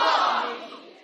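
A stand-up comedy audience shouts a line of classical Chinese verse together in one loud, brief roar that fades within about a second.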